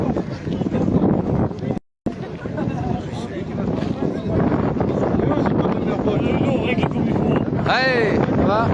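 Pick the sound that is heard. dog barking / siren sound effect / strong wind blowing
strong wind blowing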